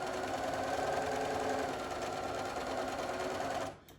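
A sewing machine running steadily as it stitches quilt pieces with the presser foot lowered, a close, even mechanical whir that stops abruptly near the end, with no voices.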